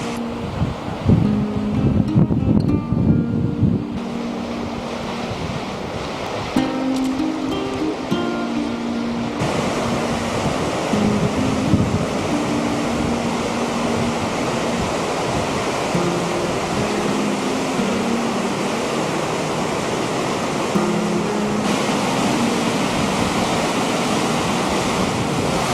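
Glacier meltwater rushes continuously below snowy Himalayan ridges, a dense and steady roar mixed with wind that keeps on without pause.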